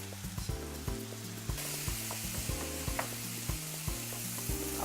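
Black beans sizzle as they warm in a pan, with a steady close frying hiss under repeated scraping and clanking strokes of a stirring utensil.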